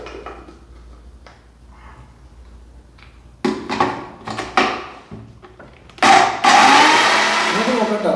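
Mixer whips cake batter in a kitchen, first with a few short bumps and clatters, then starting up with a loud, steady whirring drone that runs to the end.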